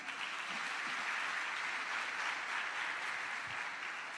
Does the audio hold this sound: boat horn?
no